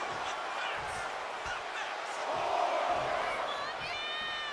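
An arena crowd in the WWE 2K25 wrestling video game roars and cheers steadily, swelling slightly midway, with a commentator's voice over the noise.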